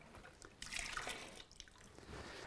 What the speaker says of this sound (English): gently pour that in, swill it around a little, just melting off the residue inside the can